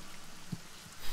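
Rain ambience plays as a backdrop in a fantasy role-playing session, a soft steady patter with scattered drips and a slight swell near the end, no speech over it.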